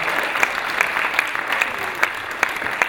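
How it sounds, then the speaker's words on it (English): An audience applauds for Mary, steady dense clapping with a few sharper claps standing out, close and sustained, no voices over it. "clap it up for Mary too for that first, for getting us cracking"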